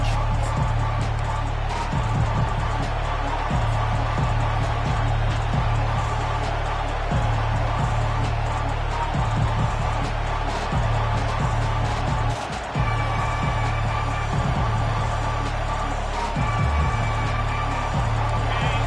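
A stadium crowd in a college football video game between Tennessee and Texas A&M roars steadily and loudly throughout, a dense sustained wall of cheering with rhythmic swells and no clear speech.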